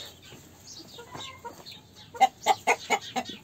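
A hen clucks in a steady series of short, close clucks after some quieter scratchy rustling at the start.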